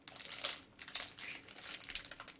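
A plastic keto snack package from a monthly keto subscription box is torn and crinkled open in a few bursts of loud, close crackling, with short pauses in between.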